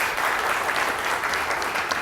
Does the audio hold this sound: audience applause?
yes